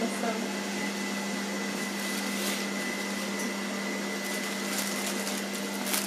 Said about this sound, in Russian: Смешная штука, смешно смотреть, как за тебя кто-то пылесосит.